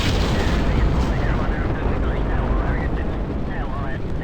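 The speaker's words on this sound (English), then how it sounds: "These solid rocket boosters are really going to be doing quite a bit of work." Solid rocket boosters firing at launch in the video game Kerbal Space Program, a loud, continuous rumbling roar that fills the whole stretch while someone talks over it.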